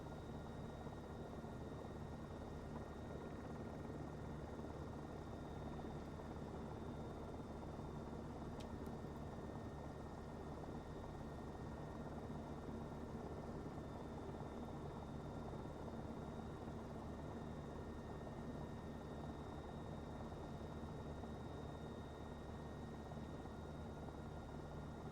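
An Airbus H125 helicopter on Kodiak Island makes a steady, loud, continuous rotor and turbine drone with no breaks, heard close up from on board.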